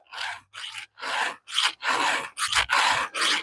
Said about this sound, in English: Now file's running nice and smooth, nice and sharp, nice and fixed.